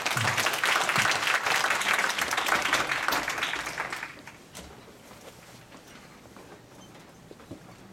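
An audience at a Seoul National University lecture claps to welcome a professor, with dense, loud applause for about four seconds that then thins into scattered, fading claps.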